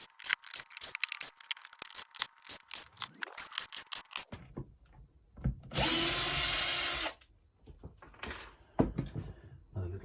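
A power drill backs screws out of a guitar amp cabinet, whining in repeated short bursts with a rising pitch sweep, then a long loud steady run, plus handling clatter and scraping of loose parts.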